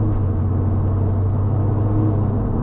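Tuned Porsche 911 997.2 Turbo engine drones steadily with a deep, boomy low rumble, continuous and fairly loud throughout with no talking.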